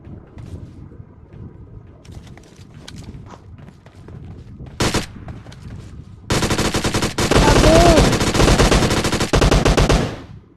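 A Scorpion gun fires in a shooting video game, with a short burst followed by a long, loud, rapid automatic stream of shots lasting several seconds before stopping.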